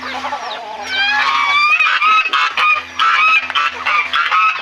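Several geese honk loudly and repeatedly close by, overlapping calls in quick bursts with some clucking fowl in the background.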